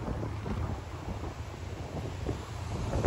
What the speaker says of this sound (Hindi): दरिया बहाव चेक करो